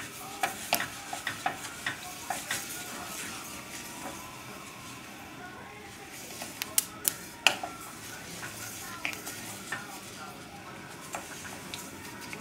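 Sesame-breaded beef fries in a pan under constant stirring, a quiet steady sizzle broken by frequent sharp scraping clicks of the utensil against the pan.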